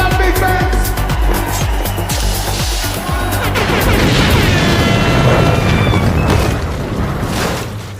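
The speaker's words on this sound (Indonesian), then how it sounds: "Aksinya kali ini yaitu dengan ledakan dari tabung gas yang kuat." A powerful gas cylinder explosion in a film booms loudly and rumbles, with crashing debris and heavy low-end roar running for several seconds without speech.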